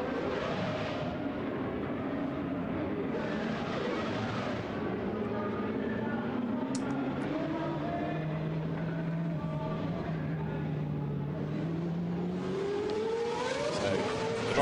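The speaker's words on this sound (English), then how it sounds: "once more they're going to have this rather noisy soundtrack, because you've got the MotoGP cars heading down the pit lane" Race cars in a Lamborghini Super Trofeo Europe race at Silverstone move down the pit lane with a continuous loud engine drone, pitch sweeping up and down as they pass close by, with no talk.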